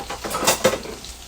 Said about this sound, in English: I'm going to throw in my minced garlic.